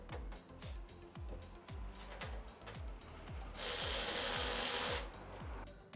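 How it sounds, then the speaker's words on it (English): A power tool drives a 13 mm socket to tighten bolts on a Harbor Freight five-drawer mechanics cart, a rapid ratcheting clatter of repeated clicks, then a brief louder whirring burst near the end, close by. "So I just use the power tool to finish the job"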